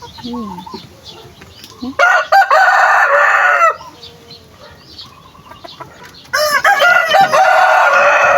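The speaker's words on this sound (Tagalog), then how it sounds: "Ang malaking malaking rooster." Backyard chickens clucking, with a large rooster crowing loudly and close twice, each long crow separated by softer clucks and fowl chatter.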